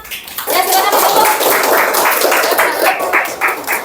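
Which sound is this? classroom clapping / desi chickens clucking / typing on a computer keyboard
classroom clapping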